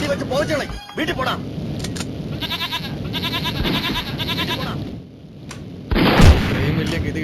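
Gunfire in the Mini Militia video game, bursts of rapid electronic shots mixed with game effects and a loud blast near the end, heard alongside a voice talking excitedly.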